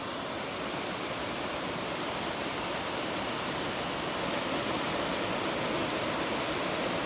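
Drake Falls waterfall at Silver Falls State Park, a dense, steady rush of falling water heard close and loud, continuous throughout with no talking.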